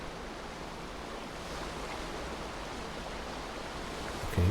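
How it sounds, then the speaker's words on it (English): Rushing water in A Quiet Place: The Road Ahead forms a constant, even hiss like a nearby stream or waterfall, filling the scene without pause until a brief thump at the end. "I'm behind rushing water so I can make as much noise as I like now"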